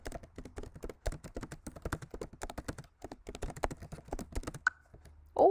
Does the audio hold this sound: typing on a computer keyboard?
yes